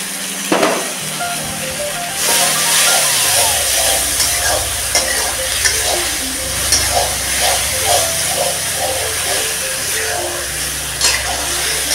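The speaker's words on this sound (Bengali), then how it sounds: "আমি এবার এই মশলাগুলো পেঁয়াজে দিয়ে দেবো" Spices hit a pan of fried onions and sizzle loudly, followed by steady stirring and scraping that continues with intermittent clatters throughout, close and prominent.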